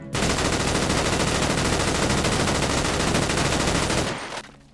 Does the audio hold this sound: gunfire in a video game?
yes